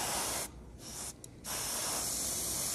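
An airbrush sprays a thin coat of Mission Models blue paint over white on a Fujimi 1/24 Blade Runner Spinner model car. A close, steady hiss breaks into two short gaps, then runs on.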